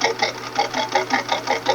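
Sewing machine stitching strips for a beginner-friendly two-colour Ice Star quilt, running in a quick steady rhythm of rapid needle pulses close to the machine for under two seconds, with no talking.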